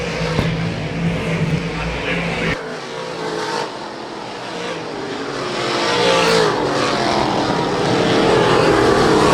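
Dirt track modified race cars racing at Mohawk International Raceway, a loud, continuous roar of several engines that swells as the field passes close by.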